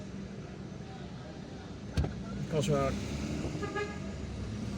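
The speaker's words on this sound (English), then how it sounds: "let's let this oncoming traffic pass" Oncoming traffic passes on a street in central Algiers: car engines rumble by at close range, a short horn toot sounds midway, and a few more horn beeps follow while a person talks briefly.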